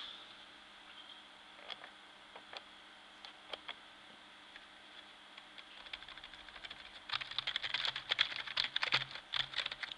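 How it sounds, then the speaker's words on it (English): Keys pressed on a computer keyboard during an EMF meter test, scattered soft clicks at first that build into a quick, dense run of close tapping toward the end, no voices. "So I press keys on the keyboard and it goes straight up."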